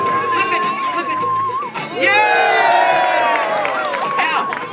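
A crowd at Pier 39 cheers and whoops after a flip trick, loud and close, with excited voices and high shouts rising together after a short dip and sustaining to the end.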